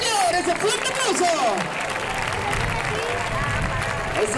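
A crowd at a recortadores bull-dodging contest in Gandia applauds steadily, with voices calling out over it and loud announcer speech in the foreground.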